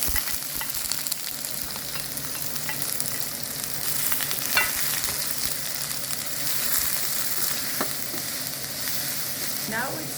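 Minced garlic and thinly sliced half-moon onion frying in oil for vegetarian yakisoba, a steady close sizzle with occasional scrapes and stirs of a utensil in the pan, no voices.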